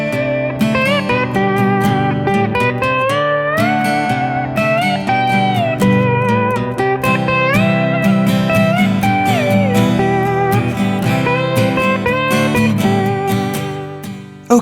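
Slide guitar soloing high on the strings over a backing accompaniment: continuous gliding melodic lines with smooth pitch slides between notes, loud and close, steady throughout with no talking.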